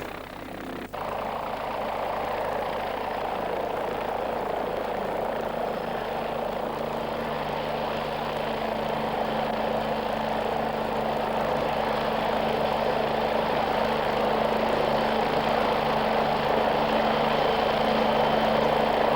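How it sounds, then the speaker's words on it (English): A PAH-1 combat helicopter flies steadily and loudly for the whole stretch, its rotor and engine drone constant and close with no pauses. "The helicopter then moves on to another position to tackle another tank."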